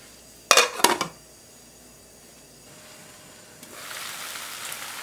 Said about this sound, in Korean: 뚜껑을 덮고 끓여 보겠습니다.